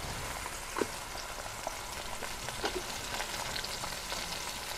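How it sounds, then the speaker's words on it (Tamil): Tomatoes and green chillies frying in a pan give a dense, even crackling sizzle, rain-like and steady, with a few faint stirring taps throughout and no voices. "இப்போ தக்காளி நல்லா வதங்கிடுச்சு, இப்போ பச்சை மிளகாய் போட்டுடும்."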